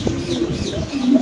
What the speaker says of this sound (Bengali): এখানে আছে একটা স্টিক কামলার কবুতর